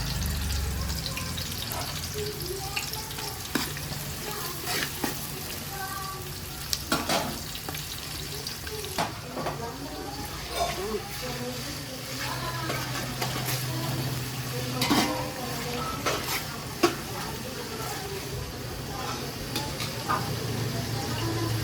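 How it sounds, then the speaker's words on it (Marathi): Onion fries in a pan for mutton biryani, sizzling steadily and close while a spatula stirs and scrapes with frequent sharp clicks; a low hum runs beneath and faint background sounds drift in now and then. "आपण चांगला रंग येऊपर्यंत भाजून घ्यायचा कांदा"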